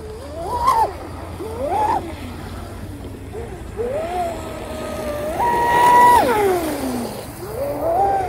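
A fast electric RC boat on a small pond, fitted with a large Octura 545 three-blade propeller, whines past with rising and falling pitch sweeps, surging loudest around the middle as it passes close.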